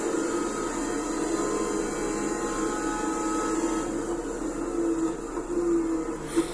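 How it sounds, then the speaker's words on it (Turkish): A steady, droning mechanical whine holds for several seconds like a vacuum cleaner, loud and continuous with no voices. "300 hızında giderken fren yaparken e, elektrik süpürgesi sesi çıkarıyor"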